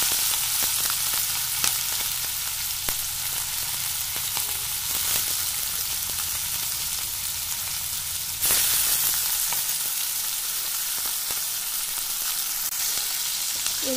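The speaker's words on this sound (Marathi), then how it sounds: "म्हणजे मिरची पण तळल्या जाईल आणि टमाटर पण गाळ होईल" Tomato and green chili fry in a pan with a loud, continuous hissing sizzle, a few scraping stirs, and a sudden surge of spitting near the end.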